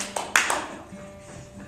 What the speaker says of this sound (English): clap. Golf clap,